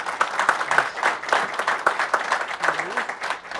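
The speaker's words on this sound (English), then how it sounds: "Can we give them a round of applause?" A crowd at a dairy industry presentation claps in a lively round of applause, steady and fairly close, with a few voices faintly audible through it.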